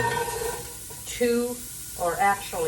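Onions go into a hot, dry All-Clad skillet and give a soft sizzle and stirring scrape, while a person talks over the cooking sounds throughout.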